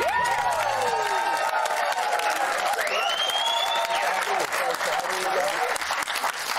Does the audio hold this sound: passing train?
no